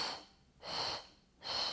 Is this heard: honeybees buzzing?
no